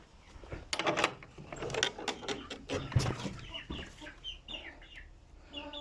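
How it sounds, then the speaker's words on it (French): Hens clucking inside a henhouse, several close, irregular clucks and squawks in short bursts, with rustling and a knock in the background. "Je vais aller voir les poules."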